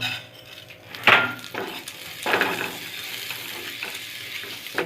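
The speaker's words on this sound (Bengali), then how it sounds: "যে গোবিন্দভোগ চালটা ধুয়ে শুকিয়ে রেখেছিলাম তা ঘি দিয়ে ভেজে নিব" Washed, dried Gobindobhog rice frying in ghee gives a soft, steady sizzle, with two sharp scraping stirs of a utensil against the pan and fainter clinks between.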